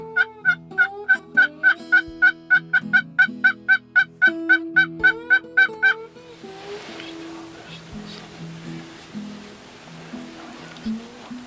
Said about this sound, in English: The birds are in their roost right above us,